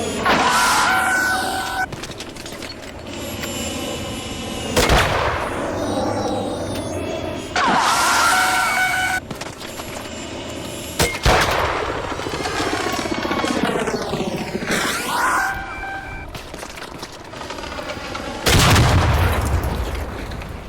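Three loud, echoing shots from the hull cracker weapon in a video game, each heavy blast separated by a few seconds and trailing off against a constant mechanical drone, with no talking.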